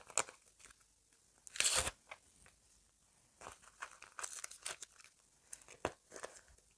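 A paper surprise packet is torn and crinkled open, with a loud ripping burst followed by scattered rustles and crackles in a quiet room.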